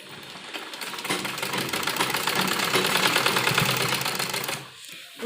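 A sewing machine stitches two pieces of a child's umbrella frock together, a rapid rattling run of needle strokes that rises in a smooth burst after a brief start and slows to a stop, close and clear.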